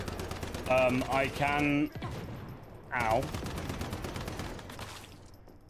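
Rapid automatic gunfire from the video game Warhammer 40K Rogue Trader crackles steadily throughout, with someone talking over the shots.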